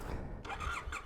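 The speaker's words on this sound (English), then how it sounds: "let's see if this old bike starts." An old Triumph motorcycle engine in the Scottish Highlands cranks and catches, a brief burst of mid-range engine noise rising partway through, close and fairly loud over low rumble.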